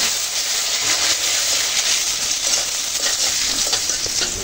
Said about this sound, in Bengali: কুচানো পেঁয়াজগুলো অ্যাড করে নিলাম, এরপর হালকা নেড়ে ছেড়ে দিতে হবে